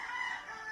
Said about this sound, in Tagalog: Pasensya na kayo sa ingay ng manok ha.